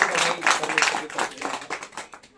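A church congregation in Indore, Madhya Pradesh, claps together in quick, uneven rhythmic bursts, fairly loud and close, with voices mixed into the applause.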